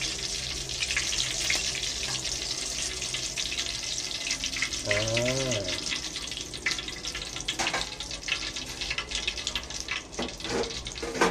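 Battered small shrimp deep-frying in hot oil, a steady dense crackle and sizzle that runs the whole way through at moderate level, with faint clinks from the kitchen and a brief tonal squeak midway.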